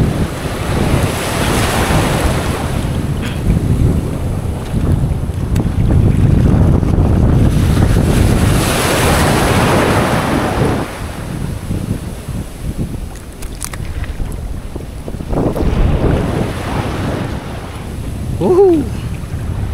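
Rough open-sea waves surge and slap around a small fishing boat, with strong wind buffeting the microphone in loud, continuous rolling swells and no voices.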